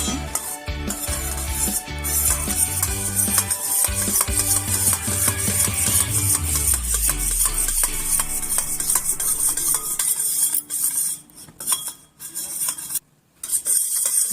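A spoon stirs panchamrit of curd, milk and water in a bowl, with continuous close scraping and clinking for about ten seconds before it thins out into a few faint taps.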